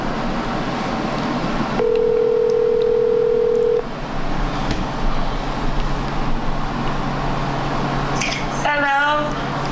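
A mobile phone places an outgoing call: a steady ringback tone sounds for about two seconds, then a burst of warbling tones near the end, over constant background hum and traffic-like noise.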